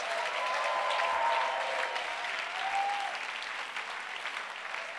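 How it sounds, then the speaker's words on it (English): Church audience in Mampong, Ghana clapping their hands for Jesus, a steady, even wash of applause at moderate volume, with a faint tonal whine drifting through the first few seconds. "Clap your hands for Jesus."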